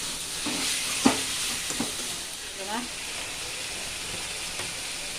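Chicken sautéing in a pan for a chicken curry gives off a steady, moderately loud sizzle, broken by a few sharp stirring knocks and scrapes.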